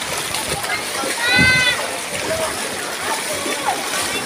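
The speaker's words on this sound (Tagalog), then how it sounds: "Grabe yung baha dito." Splashing and sloshing through deep flood water on the way into a market in Barangay Manresa, a broad wash of water noise with a swell of heavier splashing midway and a faint voice now and then.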